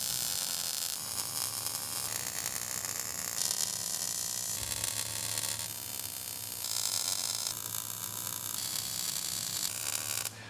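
Welding on a steel fixture table produces a loud, continuous crackling buzz that runs almost unbroken, with brief pauses and restarts between passes, close up and without talk.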